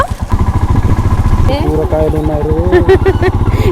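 A motorcycle engine rumbles steadily nearby on the way to a tribal village, a continuous low pulsing drone with a voice talking and singing-like tones over it.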